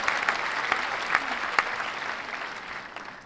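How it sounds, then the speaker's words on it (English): Pleasant applause from an audience, a continuous bed of many hands clapping with a few louder individual claps, even and moderately close, slowly thinning toward the end. "Yeah, I'm going to give it a pleasant applause as well."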